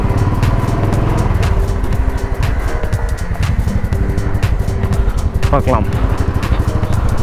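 A warmed-up scooter engine idling steadily at close range, with a continuous low rumble, while someone talks over it throughout.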